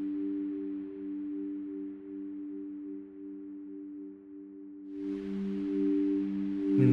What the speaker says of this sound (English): Let's add another sine wave.